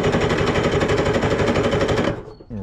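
A 1970s UltraNautics Wetbike engine, left sitting for 25 years, cranks with a shot of starting fluid: a loud, rapid, machine-gun-like chatter runs steadily for about two seconds, then cuts off abruptly into near quiet.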